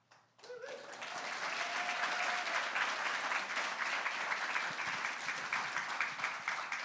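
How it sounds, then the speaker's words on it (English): An audience applauds during Maia and Alex Shibutani's acceptance speech, the clapping swelling quickly from near silence into a full, steady ovation that carries on for several seconds. "Now I'm gonna be like hunting applause like that for the rest of the speech"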